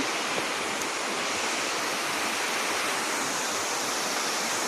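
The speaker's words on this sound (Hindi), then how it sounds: "तो देखिपे बर्तमान अलकुदर वाटरफॉल यहाँ देखो गोटे झरणार पानी केमती झरिकी आसूची" Steady, dense roar of falling water at Alkudar waterfall in Simlipal, Mayurbhanj, Odisha, a continuous broadband rush heard up close with no talk over it.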